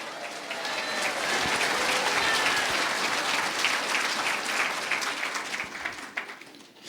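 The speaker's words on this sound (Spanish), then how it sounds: "fuerte aplausos Iglesia de Cristo" A church congregation at an Iglesia de Cristo service claps loudly and steadily for several seconds, a dense wash of many hands that swells early and then thins out toward the end.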